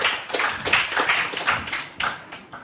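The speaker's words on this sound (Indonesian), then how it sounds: "Tepuk tangan untuk mereka berempat." An audience at a live religious debate event in Indonesia claps in a dense, irregular burst of handclaps that swells and fades over a few seconds, with no talking over it.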